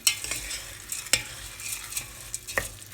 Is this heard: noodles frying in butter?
yes